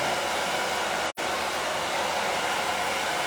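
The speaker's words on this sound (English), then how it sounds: "So right now, I'm just kind of just wrap drying it." A hair dryer wrap-drying a woman's freshly cut short layered hair gives a loud, steady, close airy roar that cuts out for a split second early on, then continues evenly.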